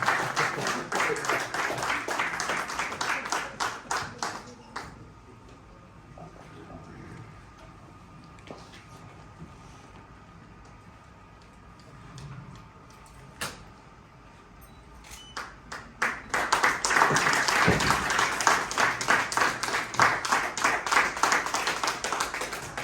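Audience at a 2022 convocation and awards ceremony in Indore clapping for a PhD graduate: bursts of applause at the start, a quieter gap with scattered faint claps and a ping, then loud applause returning near the end.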